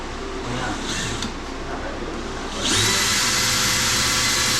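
A power drill whirs steadily, then surges louder and higher partway through and keeps running at that pitch to the end.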